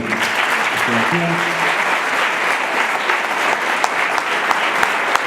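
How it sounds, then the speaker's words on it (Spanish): Audience at a school event breaks into a loud, sustained round of applause, dense clapping holding steady throughout, close and full. "Le damos un fuerte aplauso."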